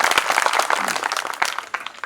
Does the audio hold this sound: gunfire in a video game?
no